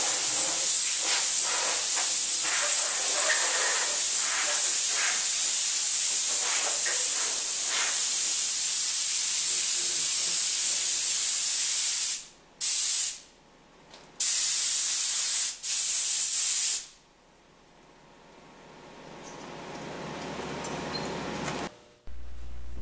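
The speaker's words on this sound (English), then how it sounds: "Blow loose chips off the machine with compressed air." Compressed air blasting loose metal chips off a milling machine in a machine shop, a loud steady hiss for about twelve seconds, then several short bursts and a fading tail.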